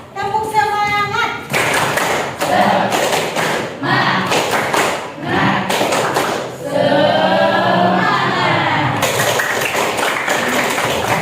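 A teacher leads a rhythmic hand-clapping chant during a school lesson, with bursts of clapping and thumping alternating with sung or chanted voice throughout.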